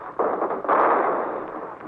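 Gunfire from landing craft during the first U.S. troop landing on Palau: two heavy booming bursts, the second longer and rolling, loud and close with no voices over them.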